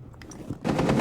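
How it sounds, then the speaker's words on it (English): Rapid bursts of gunfire in a competitive Rainbow Six style video game match, a sharp volley erupting loudly after a quieter lead-in, with repeated close shots packed together. "Oost, again, the victim of Arctic Wolves' gunfire"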